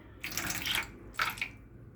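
Water is poured over a Laddu Gopal idol during its bath, falling in two short splashing pours with a brief pause between them, close and fairly soft, with no talking.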